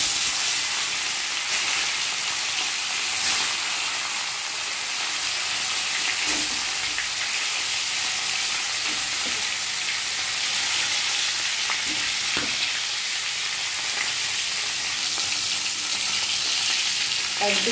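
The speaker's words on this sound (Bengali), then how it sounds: "তেল গরম হয়ে গেছে, এবার আমি মাছের পিসগুলো দিয়ে দেবো।" Tilapia fish pieces frying in hot oil for a spicy Bengali fish curry, giving a steady, loud, dense sizzle throughout with a few faint clicks of utensils and no talking.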